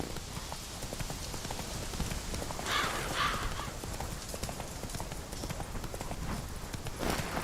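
Hoofbeats of Roach, a horse in The Witcher 3: Wild Hunt, galloping steadily under rain-like background noise, with a brief louder rustle midway and no talk.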